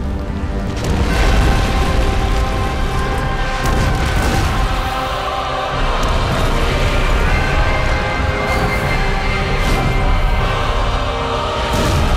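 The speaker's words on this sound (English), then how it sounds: "Cataclysmic volcanic eruptions threaten your colonies." A volcanic eruption in the ANNO 1701 strategy game rumbles as loud continuous booming with crashing bursts over a dense, orchestral-style background.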